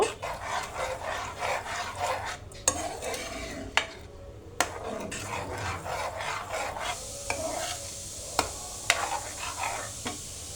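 Spoon scraping and stirring a thickening mixture of milk, sugar and grated carrot in a pan over heat, soft repeated rasping strokes with occasional sharp clinks against the pan.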